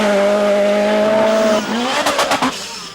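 A Lancia Delta Integrale Group A rally car's engine drones loudly, then drops and surges as the driver shifts and accelerates on gravel, with tires scrabbling and sharp bursts near the end.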